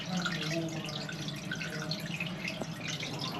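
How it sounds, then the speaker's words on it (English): Water from a running hose pipe flows through a sewer manhole in a flooded courtyard, a steady close trickling wash with scattered splashy drips and no voices. "I've left the hose pipe running, and that way we can see the water running through the manhole"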